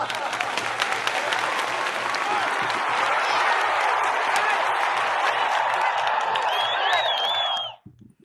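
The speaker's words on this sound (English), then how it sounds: "he smacks the applause button with his big tail" A soundboard applause effect, triggered when a cat's tail smacks the button, plays as a sustained burst of crowd clapping and cheering that runs for several seconds and then cuts off abruptly.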